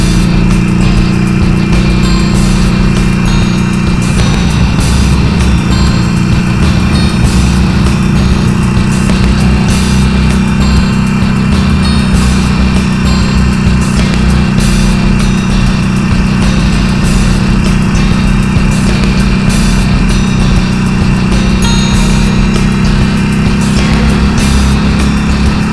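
A motorcycle engine runs in too high a gear, lugging with a steady, low, droning hum under constant wind noise, loud and close throughout with no talk.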